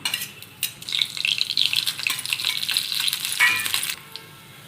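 Coriander, onion, garlic, ginger and coconut with spices frying in a pan for a rajma sambar, a steady close sizzle with scattered clinks and stirring scrapes, running alone for about four seconds before easing off.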